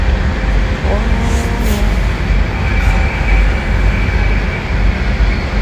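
Loud continuous rumble of an express train running on rails, heavy low-frequency roar from inside the carriage, with faint squeals and clatter.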